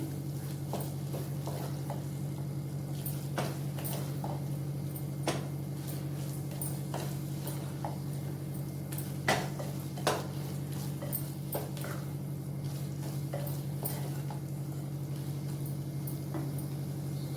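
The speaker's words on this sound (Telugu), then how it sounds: "ఇది కూడా బాగా ఫ్రై చేసేసుకోవాలి." A metal spoon stirs and scrapes in a pan as turmeric and spices fry for a peanut curry, with scattered clinks and taps over a steady low hum and no talking.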